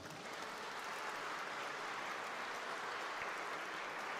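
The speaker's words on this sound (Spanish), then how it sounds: "Vamos a darle un aplauso a Monsi." Applause from an audience at a Mexican faith talk, a steady, fairly faint wash of clapping filling the whole moment with no voices.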